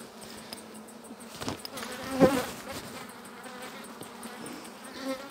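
Honeybees buzz around a beehive during hive care, a soft, continuous hum of many insects with occasional louder passes close by, fairly quiet overall and without talk.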